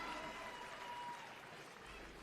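Crowd cheering and applause at a FIBA 3x3 women's basketball game between Canada and USA in Québec, a brief, fairly faint burst of clapping and cheers that fades slightly.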